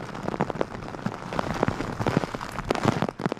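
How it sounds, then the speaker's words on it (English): Heavy rain pours down hard on a Bermuda golf course, a dense steady patter of drops striking surfaces close by, with no voices. "it was pouring rain as hard as it has ever rained"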